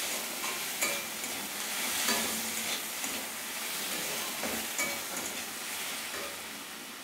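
Garlic paste and green chili paste sizzle in a frying pan while a spoon stirs and scrapes through them, a steady soft frying hiss broken by irregular stirring knocks.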